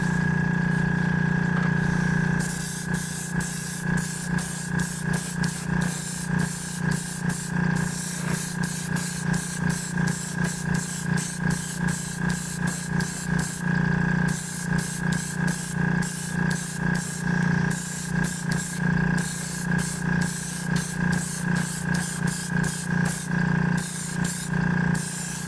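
A Gaaherli Mobius 0.3 paint sprayer coats a chassis with paint, a steady hiss with a constant motor hum underneath and many short bursts as the trigger is pulled and released. No one speaks.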